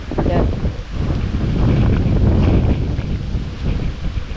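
Strong wind gusting across a dragon fruit farm near a river in Palauig, Zambales, with loud, continuous buffeting roar on the microphone that swells and dips for several seconds.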